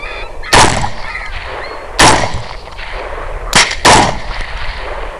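Several sharp, loud rifle shots fired at a coyote, four reports in about five seconds, two of them close together near the end, each followed by a short echoing tail outdoors.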